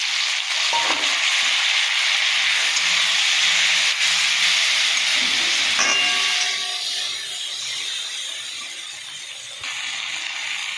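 Tomatoes hit a pan of frying onions and garlic, giving a loud, steady hiss and sizzle with a few clinks of stirring. The sizzle eases slightly toward the end, and no one speaks.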